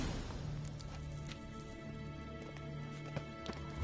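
Horse hooves clip-clop steadily in Witcher 3, set in Velen, with a rhythmic galloping beat over a continuous bed of game music and ambience, moderately loud.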